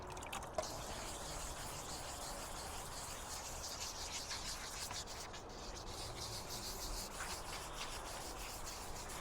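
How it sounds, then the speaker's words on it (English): Light wet sanding of a painted surface by hand with 120 grit sandpaper: a faint, steady hiss of rubbing with a wet scrubbing texture runs through the whole stretch, quiet and unbroken, with no talking. "we're just lightly wet sanding this with a 120."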